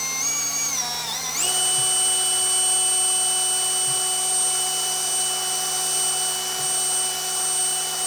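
A drill bit grinding through a metal can under Form Flex compound, a steady high whine with a pitch shift near the start and a few faint knocks, close and loud with no talking.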